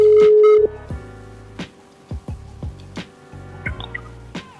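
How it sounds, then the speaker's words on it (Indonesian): A telephone being dialed to place a call: a steady dial tone, then a string of short, evenly spaced key tones, with no talking. "Kita telepon langsung aja ya."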